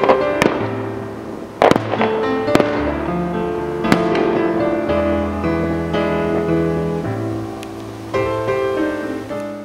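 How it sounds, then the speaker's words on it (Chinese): An evening fireworks show over Lake Toya, loud and continuous, with sharp bursting bangs every second or two over a rolling, crackling roar and whistling shells. "洞爷湖每年从4月底到10月底每天晚上都会在湖上放烟火"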